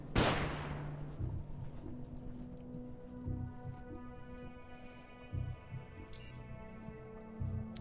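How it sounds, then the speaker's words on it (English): A flashbang grenade in the Underrail video game goes off with a single loud, sharp burst at the start. A long ringing tail and a bed of steady game ambience with tonal hums follow. "Flashbang."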